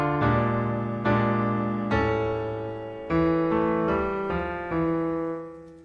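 A piano plays the third and fourth measures of a song's intro at late-beginner level, with slow, sustained chords and two-note dyads struck at uneven intervals, each ringing out and fading, close and alone.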